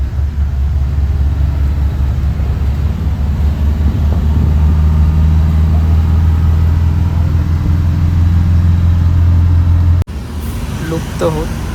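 An old bus engine idling, heard from inside the empty vehicle as a loud, continuous low rumble. The tone shifts briefly near the end.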